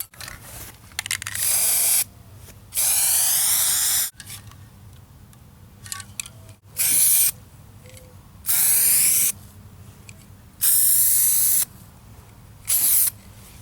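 Loud hissing bursts of an Ironlak spray paint can spraying through a cap, about six separate sprays of a second or so each, with quiet pauses between them.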